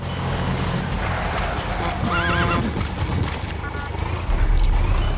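A horse in the video game Metal Gear Solid V lets out a loud, wavering neigh over running hoofbeats and engine rumble, with someone talking in the background.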